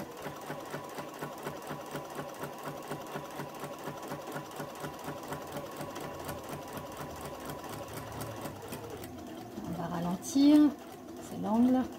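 A domestic sewing machine stitches a lined Christmas boot in a steady, rapid run of needle strokes for about nine seconds, then stops and gives a few short bursts, with a quiet voice speaking near the end.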